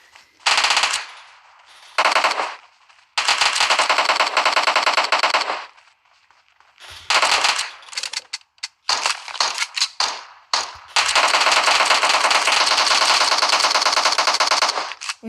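Automatic weapon fire in the PUBG video game, rattling out in long, loud rapid-fire bursts separated by short silent gaps, with no talking.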